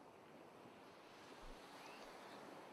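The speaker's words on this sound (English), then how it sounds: "Listen to the waves." Ocean waves at a beach make a soft, steady wash of surf, faint and distant-sounding, with light wind and no voices.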